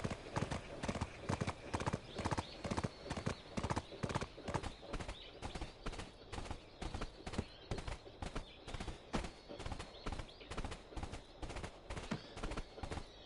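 Rapid, steady hoofbeats of a galloping horse in the video game Black Desert Online on PlayStation 4, loud and continuous throughout, with a rhythmic clatter and a faint background hum.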